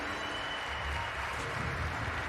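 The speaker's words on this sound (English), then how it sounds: "You can hear the crowd right now." A live crowd at The International 10 Dota 2 tournament cheers and applauds during a match, a steady wash of distant roaring and clapping that holds evenly throughout, with a commentator's voice faintly underneath.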